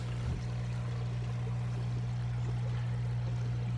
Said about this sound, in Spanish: Este es un sistema de aire para oxigenar el agua.